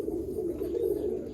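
A large Malwai pigeon gives a low, steady coo, a brief sustained throaty hum heard up close.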